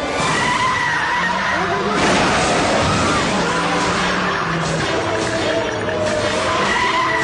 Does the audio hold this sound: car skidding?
yes